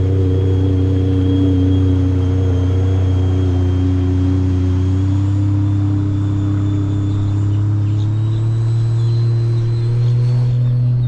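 A SeaDoo RXPX Pro Spec racing jet ski with a twin-turbo engine runs steadily, a loud, close, continuous droning rumble holding a near-constant pitch with slight rising whine throughout.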